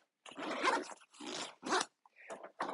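A zipper on an Alpha One Niner Evade 1.5 everyday-carry backpack is pulled closed in several quick, close, rasping strokes separated by short pauses.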